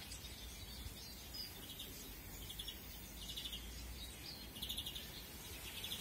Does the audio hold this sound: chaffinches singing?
yes